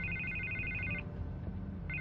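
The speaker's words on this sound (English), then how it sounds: "I can't get the phone to stop ringing." Telephone ringing in a Batman video game, an electronic ringtone trilling in two short bursts separated by a pause, moderately loud over a low background hum.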